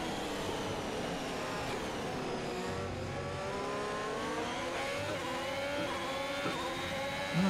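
Haas Formula 1 car engine in the F1 2021 racing game, revving steadily as it accelerates down a straight, a loud sustained whine with rising pitch and no voices.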